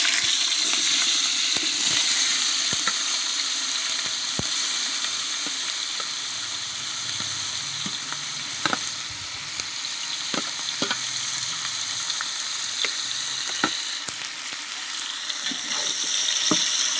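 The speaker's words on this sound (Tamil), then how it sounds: "வெங்காயம் வதக்கி கொடுங்க, நல்லா வதக்கி கொடுங்க, ஃபுல்லாக வதக்குங்க." Onions sautéing for biryani, a steady loud sizzle in an oil-filled pan with a spoon scraping and clinking against the metal at irregular intervals throughout, no voices.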